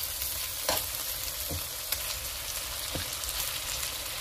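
Fried pork being stirred back into a hot pan for pork estofado, a steady bright sizzle with a few soft scraping strokes of the spoon, close and with no talking.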